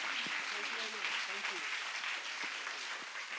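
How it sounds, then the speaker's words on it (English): Applause from a conference audience after a keynote talk, a soft, steady patter of clapping heard at a distance, with a few voices murmuring underneath. "Once again, please give an applause to Henry."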